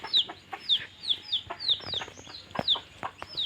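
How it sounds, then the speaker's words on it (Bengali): Several domestic chickens cluck quickly and repeatedly while feeding, with short close chirpy calls coming in an irregular rhythm over soft background noise. "দেখতে পাচ্ছেন মুরগিগুলা কীভাবে খাচ্ছে।"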